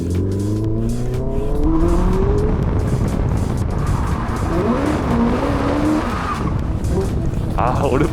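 A Hyundai RN24 electric sports car's tires squeal and skid loudly under the handbrake over a steady drone, the pitch of the screech sliding up and down as the car slides.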